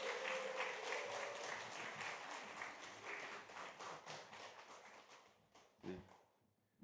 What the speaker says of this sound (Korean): 나오실 때 큰 박수로 맞이하겠습니다